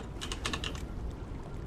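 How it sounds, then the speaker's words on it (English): Quiet clatter of a computer keyboard, a quick burst of keystrokes that trails off into faint background hum, no speech. "I've now got to type it all again"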